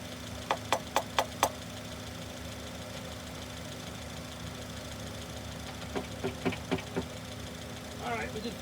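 A car engine idling, picked up by a microphone held on the cylinder head, a low steady mechanical drone broken by two groups of about five sharp, evenly spaced taps.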